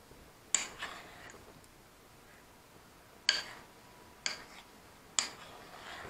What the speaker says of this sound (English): We're stirring this all up, making a nice big ball.